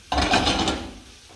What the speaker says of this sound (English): Nice frying noise.